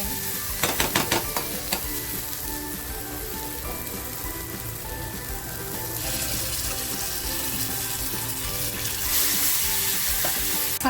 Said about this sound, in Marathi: थोडं सळणी पाणी टाकून मसाला फ्राय करून घेते